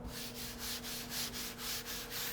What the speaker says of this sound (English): You can hear it sounds very rough, and that's all the contaminants stuck on the pores of the paint